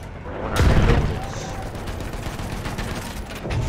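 Rapid tank chain gun fire in Battlefield 1, a loud sustained burst that starts sharply and keeps rattling on, with a dense battlefield din behind it.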